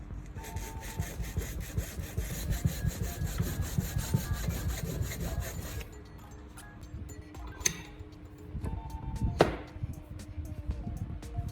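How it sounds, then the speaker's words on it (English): Sawing cuts a straight slot along a PVC pipe, a steady rasping rub for about six seconds, then quieter scraping with scattered small knocks and taps, close. "Then cut a straight slot along the side."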